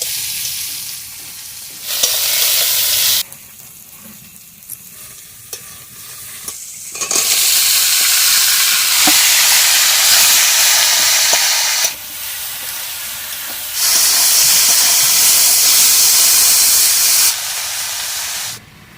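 Garlic and tomatoes fry in a pan, a steady loud sizzle and hiss with bursts of stirring, swelling and easing in long stretches, no voices.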